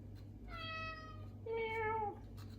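A pet cat meows twice in quick succession, each call drawn out and clear, close by with a faint steady hum underneath and no talking.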